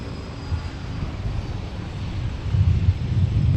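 Airliner taking off from runway 17 at Minneapolis–Saint Paul airport, a steady distant jet roar that swells toward the end, with wind buffeting the microphone.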